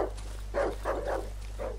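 A dog in the horror survival game Darkwood gives several short barks or growling yelps in a rough rhythm over a constant low hum, with no talk.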